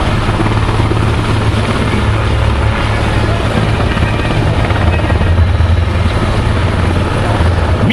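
Military helicopters hover at an air force open house at Paya Lebar airbase, a loud, continuous rotor thrum and engine roar filling the air without pause.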